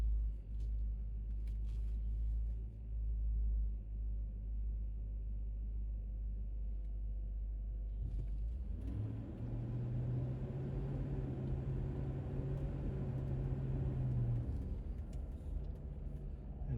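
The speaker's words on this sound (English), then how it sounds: "the Explorer fan is considerably louder than the factory fan" An aftermarket Explorer electric cooling fan on a D2 engine runs during an engine RPM test, a steady loud rumbling drone that swells after about eight seconds into a stronger whir before easing near the end.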